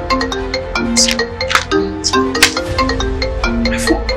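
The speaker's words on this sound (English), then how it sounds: "my phone is ringing" A mobile phone ringtone plays a bright, repeating melodic tone pattern, loud and close, with faint background sounds underneath.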